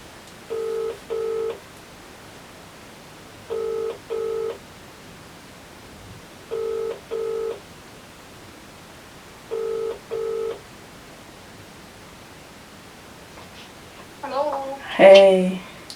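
Phone keypad dialing tones while calling someone back, four evenly spaced pairs of quick beeps, clear and moderately loud against a quiet background, followed by a short rustle and a voice at the end.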